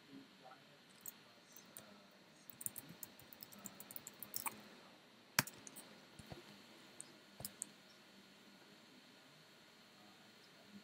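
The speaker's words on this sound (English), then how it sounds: "I'm just going to type in," Scattered clicks and taps on a computer keyboard, fairly quiet and irregular, with a few sharper keystrokes standing out over a faint steady hiss in a quiet room.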